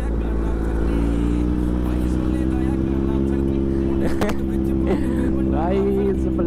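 A Kawasaki Z900 and a Hero Splendor motorcycle race side by side, engines droning steadily and loud, with a rising rev and whoosh near the end and voices talking over the noise.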